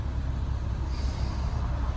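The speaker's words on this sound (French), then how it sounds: "j'aime pas le bruit de la voiture." A Toyota Supra's six-cylinder engine idles or runs in a low, muffled steady drone, close and continuous with no talk over it.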